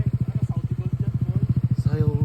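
A motorcycle fitted with an Accra exhaust pipe idles with a steady, rhythmic thumping pulse, loud and close, as voices chatter briefly near the end.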